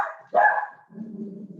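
A dog barks once sharply and loudly, then a lower, softer whimpering or growling sound trails off, with no talk over it.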